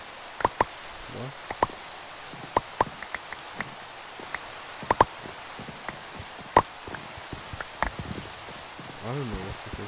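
Rain falls steadily in the Minecraft video game, a soft continuous hiss broken by scattered sharp clicks and taps, with no talk over it.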